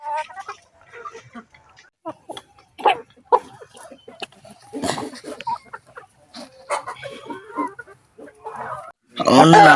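Ornamental Parrot Beak Brahma chickens on a farm in Ampara, with close clucks and calls scattered among people talking and a dog audible, ending in a louder burst of crowing.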